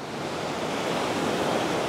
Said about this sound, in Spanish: Miren el mar, está súper, súper movido. Muchas olas.